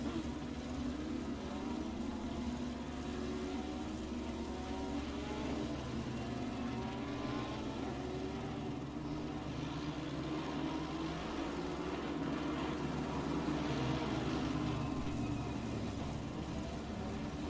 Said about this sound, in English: They will also be accelerating and then applying brakes, as you will see